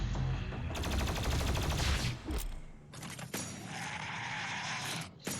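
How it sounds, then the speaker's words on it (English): A plasma rifle fires in rapid, sustained volleys during Doom Eternal combat, with a pause before another loud bursting stream amid clanking mechanisms. "right here we have our great plasma rifle"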